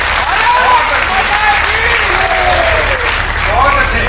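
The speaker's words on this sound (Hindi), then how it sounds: "एक बार पूरा सदन मुझे तालियां बजा करके आदेशित कीजिएगा" Loud, continuous clapping from a large audience at a patriotic poetry recitation, a dense even roar of hands with some voices faintly mixed beneath.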